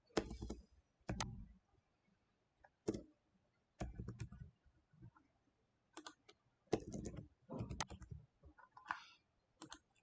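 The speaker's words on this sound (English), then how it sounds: "So click on select design combinations." Computer mouse clicks while working in ETABS structural design software, a handful of sharp, close clicks spaced irregularly with quiet gaps between them.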